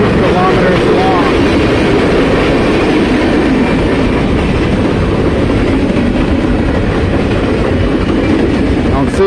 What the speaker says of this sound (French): I think I was overdubbed by the train